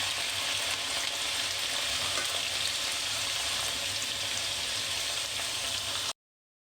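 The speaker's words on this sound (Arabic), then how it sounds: "اول ما الزيت يسخن هنزل بالبطاطس بتاعتي واقليها عادي كاني بقلي بطاطس عادي" Potatoes fry in hot oil with an even, loud-ish sizzle that holds for about six seconds before cutting off abruptly; no one speaks.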